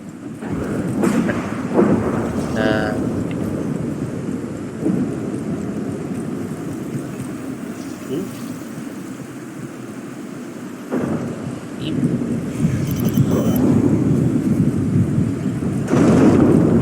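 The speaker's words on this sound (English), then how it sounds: "That sounds like a big storm outside" A big thunderstorm plays in the background of the Aliens: Fireteam Elite video game. Steady rain hisses throughout, and rolls of thunder rumble at a moderate, fairly distant level with no talking.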